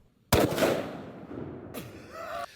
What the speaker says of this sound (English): And now for the 500 Smith & Wesson Magnum snub